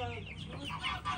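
Chickens and young chicks clucking close by on a village farm, a steady run of short overlapping clucks and peeps with some faint background murmur.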